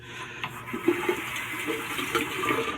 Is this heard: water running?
yes